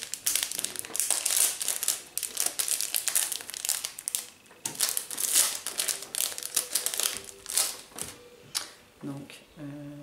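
Loud crinkling and crumpling of a plastic package being pried open, in rapid irregular bursts close to the microphone.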